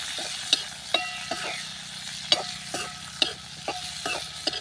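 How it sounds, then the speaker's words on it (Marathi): Garlic fries in a pan for a gram-flour thecha, a soft steady sizzle under repeated sharp, close clinks and scrapes of a spatula stirring at an uneven rhythm. "लसूण देखील आपण तळून घेणार आहोत थोडासा."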